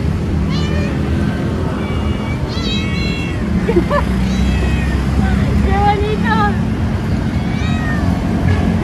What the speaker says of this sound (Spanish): Los gatitos de Yakarta.